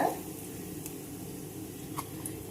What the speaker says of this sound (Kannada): ಎಣ್ಣೆ ಕಾದೈತಿ, ಈಗ ಹಪ್ಪಳ ಹಾಕ್ತೇನೆ